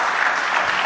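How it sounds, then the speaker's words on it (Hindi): An audience at a summit in Rajasthan breaks into steady applause to welcome a speaker, a dense wash of clapping that stays even and fairly loud for the whole moment. "तालियों से स्वागत।"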